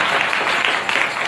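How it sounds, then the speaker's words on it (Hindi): Crowd applauding loudly to welcome a guest at a community religious gathering, a dense continuous wash of clapping across the whole short moment. "ताली जोर से बजाने का स्वागत करिए"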